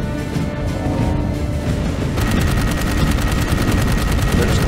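Rapid gunfire from the video game Dark Void, dense and continuous, stepping up after two seconds into a faster machine-gun rattle of sharp repeated shots over a loud, busy game mix.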